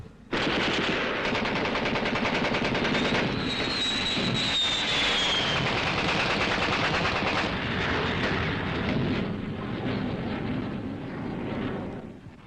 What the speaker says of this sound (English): The main defense against these air raids was rifle and machine gun fire